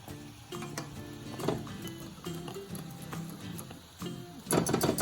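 A whisk scraping and stirring thickening grits in a pot, with soft irregular clinks and a sizzling bubble underneath, growing louder in a final flurry of strokes.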